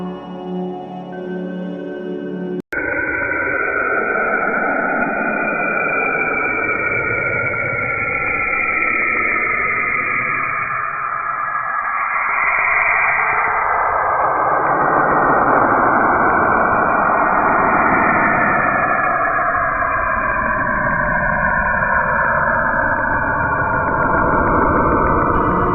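Space recording presented as the sound of the gas giant Saturn: a loud, continuous, band-limited roar with slowly shifting whooshing and whistling tones, lasting about twenty-five seconds after a brief electronic intro.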